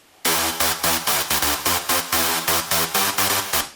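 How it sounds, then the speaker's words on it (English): Dry, ravey sawtooth synth bass with heavy high end, played alone as a run of short, evenly spaced punchy notes in a steady pulsing rhythm, bright and loud. "Kind of a ravey, classic sawtooth sound with a lot of high end going on"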